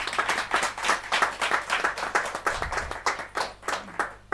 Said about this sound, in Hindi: जोरदार तालियां अच्छी बजें।